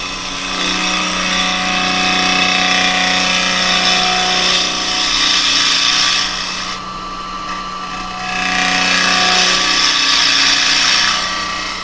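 A wood lathe spins a turning while a tool cuts steadily into the wood, a loud continuous whirring hiss that briefly eases midway before the cut resumes.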